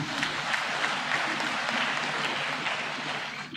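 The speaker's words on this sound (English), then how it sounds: "Let's give them a round of applause." Faint, distant applause from a seated audience at a military academy commissioning ceremony for newly commissioned officers, a soft continuous patter of many hands throughout the short moment.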